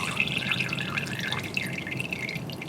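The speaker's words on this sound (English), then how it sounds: "I'm just going to do a quick rinse" Water trickles and drips steadily during a quick rinse of a water sample in lab preparation, a continuous close splashing flow with no speech.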